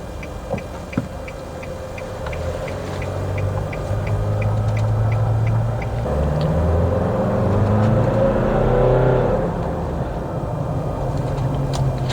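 Nissan Navara 4x4 bakkie driving on gravel in four-wheel drive, a loud steady cabin rumble of engine and tyres with rising and falling engine tones and a faint regular ticking, like an indicator, early on.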